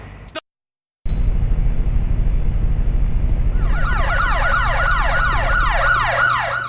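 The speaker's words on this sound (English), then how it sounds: "Those are not car alarms. Those are police cars nearby." Video game police car sirens wail in a repeating rising-and-falling pattern, fairly close, over a steady low rumble after a brief silent gap.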